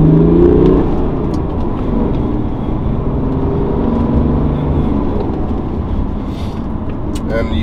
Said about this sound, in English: So we are going uphill now, second gear. Gonna put my foot down.